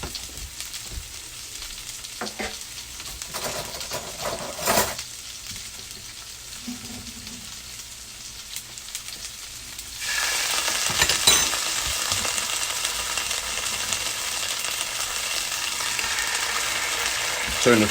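Green beans in a hot pan with a tablespoon of water added, a quiet crackle with a few clinks that bursts into a loud, steady hissing sizzle midway and keeps going; no talking.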